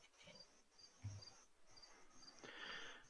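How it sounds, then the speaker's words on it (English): Loud cricket chirping right next to the microphone, repeated trilling pulses in rapid bursts with short gaps, alone without talk. "Loud, noisy cricket."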